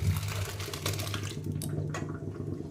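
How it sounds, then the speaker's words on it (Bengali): Whey water from vinegar-curdled chhana draining through a mesh strainer basket, a steady close trickling and splashing stream over a low hum, with no talking. "এবার আমি ছানার জলটাকে ঝরিয়ে নেবো সুন্দর করে এই যে জাল ঝুড়িটা এর সাহায্যে আমি ঝরিয়ে নেবো"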